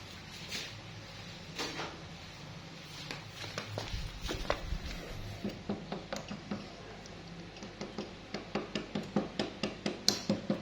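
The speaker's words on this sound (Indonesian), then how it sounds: "Usahakan kalau mau pantek memantek pakainya palu karet ya bosku." A rubber mallet taps on a motorcycle engine part during a Kawasaki Ninja R engine service, giving a long run of short, dull knocks. The blows start sparse and irregular, then turn into quick, evenly spaced strikes close to the microphone.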